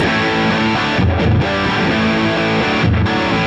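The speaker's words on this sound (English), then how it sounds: "you can hear that's a lot more saturated" Heavily saturated electric guitar distortion played with the volume pedal pushed fully down, loud sustained chords with two short choppy rhythmic bursts, no voice present.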